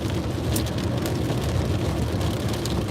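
Steady rain patters and hisses around a car being driven, with a dense, continuous wash of drops and road noise and no talking.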